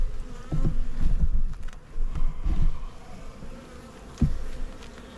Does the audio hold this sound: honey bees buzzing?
yes